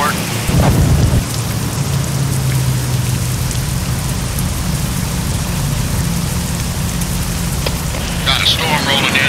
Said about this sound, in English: Got a storm rolling in, and it's gonna be more than a little washer.